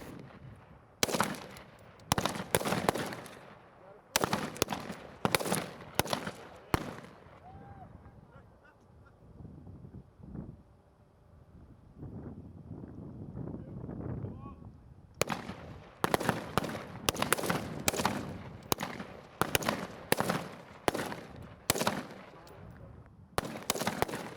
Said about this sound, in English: Soldiers fire 10 rounds from the standing supported position.